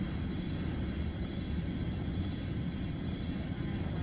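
An airliner in the Airline Commander flight game rolling down the runway on takeoff, a steady loud engine roar holding constant throughout.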